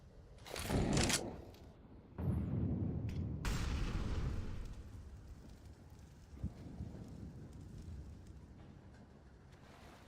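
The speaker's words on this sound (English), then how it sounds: "A flashbang on Dodo." Flashbang grenade going off in a competitive Counter-Strike style pro league match, a sharp bright bang followed by a rumbling burst and lingering ringing wash, fairly faint under game ambience.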